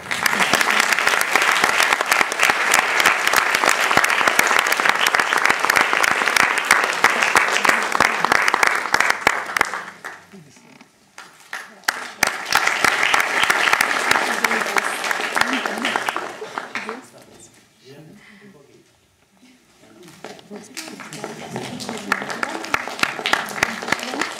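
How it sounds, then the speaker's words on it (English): Audience applause for student award winners at a Carnatic music school ceremony in Melbourne, loud and sustained with two dips where it briefly thins, mixed with some voices. "Please applaud generously."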